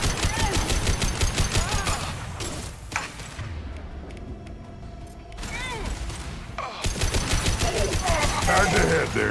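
Rapid bursts of gunfire from the video game Mass Effect 2, loud and repeated, pausing for a few seconds of quieter mechanical sound before the firing resumes.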